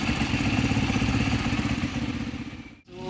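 A Rusi Flash 150X motorcycle with a faulty temperature sensor idles close by in a loud, steady chugging drone that briefly dips near the end.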